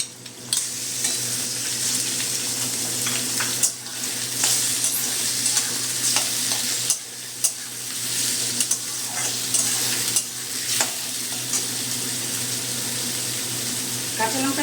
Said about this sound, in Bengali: চিংড়ি মাছটা দিয়ে দেবো।